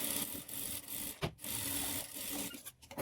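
Sewing machine stitching a folded edge on blouse cloth, a steady close whirring run broken by brief pauses, with no talking.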